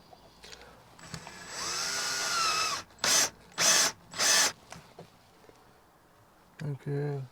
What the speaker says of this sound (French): Faut que je perce ici.